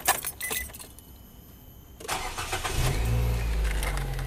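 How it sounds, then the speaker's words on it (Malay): A car's keys jingle briefly, then the starter cranks and the engine catches and settles into a steady low idle, close and clear with no talk. "Kita hidupkan dulu enjin kereta ni."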